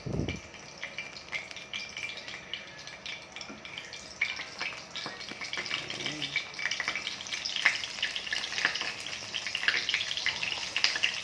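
Dried fish (tuyo) fry in a pan, a close, steady crackling sizzle with scattered pops and spatters that grows a little busier toward the end, with no one speaking.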